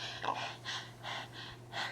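A voice imitates a congested child who cannot breathe through his nose panting, with about five quick, breathy gasps in a regular rhythm.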